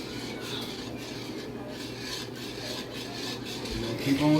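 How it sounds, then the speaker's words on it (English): Roux of flour and fat being stirred in a pan for gravy, a soft, steady scraping and rubbing close by, with a brief clink at the end. "Keep on stirring. That roux is what helps your gravy to thicken up."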